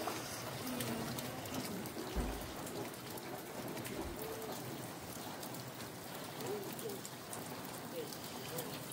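Steady monsoon-style rain pours over Okhaldhunga in a dense, even hiss, with a couple of brief low rumbles near the start and faint birdsong woven through.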